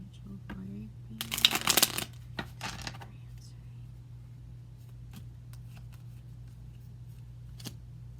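Tarot cards shuffled in a burst of quick riffling flutters, followed by a few soft taps and slides as cards are drawn from the deck, all close and fairly quiet in a still room.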